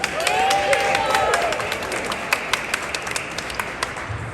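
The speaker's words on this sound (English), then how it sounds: "Clap for yourselves." Applause and clapping from a crowd at an outdoor justice rally, dense and sustained at first, then thinning into scattered individual claps as it fades.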